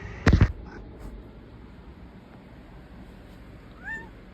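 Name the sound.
cat meowing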